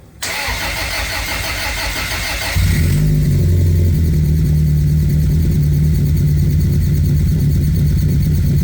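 A Honda K24A engine swapped into a Civic cranks and catches at once, then settles into a loud, steady running roar with a low hum, revving slightly, close by.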